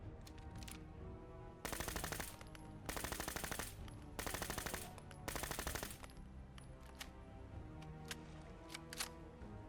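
Rapid automatic bursts from a 10mm SMG in Fallout 4, four clear strings of fire spaced about a second apart over quieter game ambience, with no voices.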